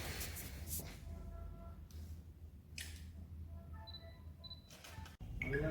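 Camera shutter clicks at a stage ceremony, several sharp snaps spaced through the stretch over a low steady hum, with faint tonal beeps between them and no talk.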